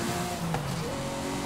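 Ferrari FXX K hypercar driving in Forza Horizon 5 on rain-wet roads, a steady engine drone with tonal whine holding at moderate level throughout, no talk over it.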